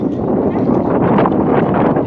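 Cool breeze blowing near the sea, a steady broadband wind rush buffeting the microphone throughout with little change in level.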